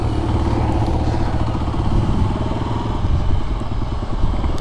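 Off-road trail ride on a Kawasaki KLR motorcycle, its engine rumbling steadily and close with a rapid, throbbing putter and some clatter, loud and continuous throughout.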